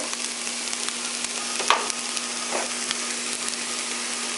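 Onions frying in a pan for ridge gourd curry, a soft steady sizzle with a couple of brief stirring clatters, fairly faint and heard alone.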